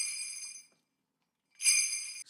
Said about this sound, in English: Sleigh bells. Magical.